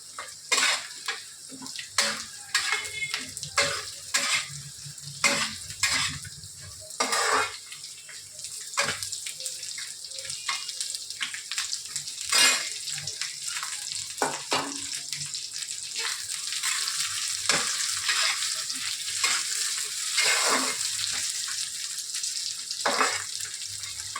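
Potatoes fry in a pan with browned onions, a continuous sizzle beneath repeated clattering scrapes of a spatula against metal, close and fairly busy throughout.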